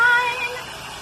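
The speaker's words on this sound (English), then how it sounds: "let me hit this with the blow dryer." A blow dryer drying paint on a fruit truck model, a loud, steady, close whine with a constant airy hiss and no voices.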